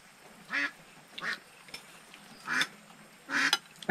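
Ducks on a farm give several loud quacking bursts in an irregular series, close by, with short quiet gaps between the calls.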